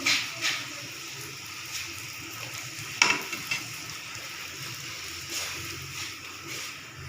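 A puri fries in hot oil while being pressed down with a spoon, a steady low sizzle punctuated by a few brief sharper crackles and bubbling bursts, close and moderately quiet.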